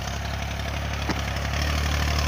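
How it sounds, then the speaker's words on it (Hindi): A steady, loud tractor engine working a corn field drones throughout with a low rumbling hum, no voices. "ट्रैक्टर के शोर की वजह से"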